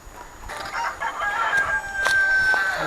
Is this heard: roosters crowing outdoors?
yes